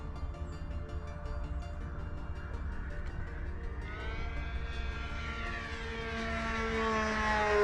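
A V-1200 model airplane engine runs at half throttle, a steady buzzing drone that climbs in pitch and grows louder toward the end as power comes in.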